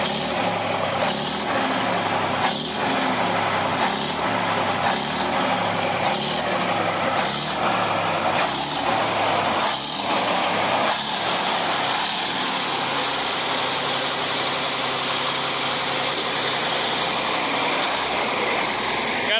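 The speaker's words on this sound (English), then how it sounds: "It's got good oil pressure, air's building, running pretty cool." A 1965 Mack B61 dump truck engine idles steadily for the whole stretch, a loud, continuous diesel rumble with a faint rhythmic pulsing and a steady hiss as the air system builds pressure.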